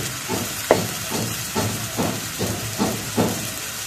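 Onions frying in oil as chili powder is added, cooking for a village iftar meal; a steady close hiss and sizzle with soft rhythmic bursts recurring about every half second.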